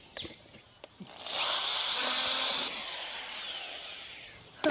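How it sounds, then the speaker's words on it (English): A small drill bit bores an entrance hole in a wooden nest box, a steady high whining grind lasting about three seconds, with clicks and handling knocks before and after. "we're going to take this smaller drill bit"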